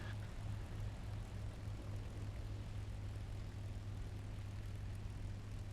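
A fixed-wing aircraft engine drones steadily in the War Thunder video game during a landing and takeoff. It makes a continuous propeller hum with a low, even tone that holds without pause.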